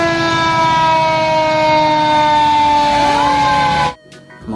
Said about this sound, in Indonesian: Wih, rupanya pemadam kebakaran.